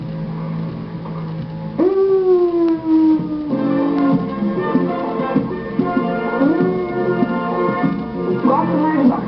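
A dog howls in long, wavering rising-and-falling tones, fairly close and loud, starting a couple of seconds in and continuing through, with people talking nearby in a kitchen where codfish calzone is being made.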